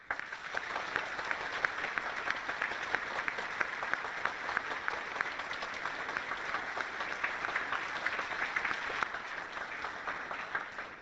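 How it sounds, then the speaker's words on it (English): A large audience at a UN gathering for the Secretary-General applauds steadily, dense clapping that holds at an even, moderately loud level for the whole stretch with no voices. "I would like us to really give a round of applause to our Secretary General"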